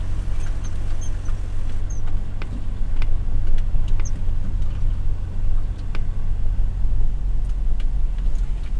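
A GWM P-Series (Cannon/Poer) ute driving off-road in four-wheel drive, a steady low engine and drivetrain rumble close by with scattered clicks and knocks from the terrain.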